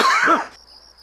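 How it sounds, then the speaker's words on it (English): A single harsh, rasping smoker's cough, close and loud, lasting about half a second and then followed by near silence. "At any time, your smoker's cough"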